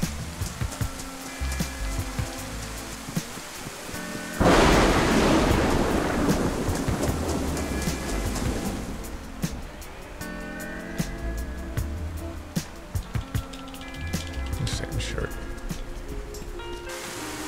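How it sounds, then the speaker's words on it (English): A loud rumble of thunder rolls in and fades, over steady rain hiss at night in the video game DayZ, with clicks and scattered sounds before and after. "Pitch black, raining."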